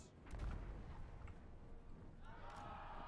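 Mortar fire in the Total War: Warhammer II battle, rumbling booms and a muffled volley of distant shots under a continuous wash of battlefield noise, fairly faint overall.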